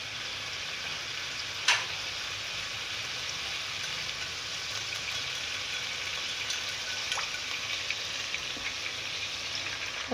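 Beef for yakhni pulao fries in a pan with a steady, close sizzle and hiss that runs throughout, broken by an occasional clink or scrape.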